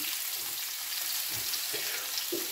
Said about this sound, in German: Das darf jetzt nicht zu fest brutzeln.